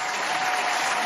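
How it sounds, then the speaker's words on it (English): Steady applause from an audience, a dense wash of clapping hands holding at an even level for about a second with no pauses. "I've got some audience clapping."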